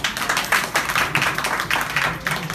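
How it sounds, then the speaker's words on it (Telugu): Wedding guests clap in a quick, steady rhythm nearby, loud and close for a couple of seconds, with no voices over the clapping. "అందరం చప్పట్లు పెడదాం"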